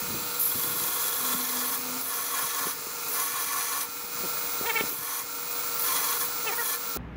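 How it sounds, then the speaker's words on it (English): A knife's bolster is ground down during sharpening, a loud sustained abrasive rasp with repeated pulses as the blade is worked against the grinder, running steadily until it cuts off abruptly at the end. "we're just going to take the bolster straight down, clean it up a little bit."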